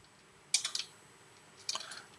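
Quiet computer keyboard typing: two short bursts of a few soft, close key clicks separated by a brief pause, over a faint room hiss.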